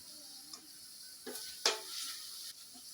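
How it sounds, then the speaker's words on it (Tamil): Masala spices being fried for lauki sabji in a pan, with a quiet, steady sizzle and a few scattered scraping or stirring clicks, one sharper crackle near the middle. "अच्छे से भून लिया है हमने मसाले को"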